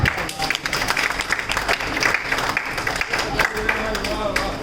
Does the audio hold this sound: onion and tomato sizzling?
no